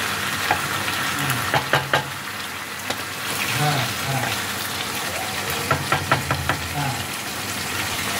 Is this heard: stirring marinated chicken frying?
yes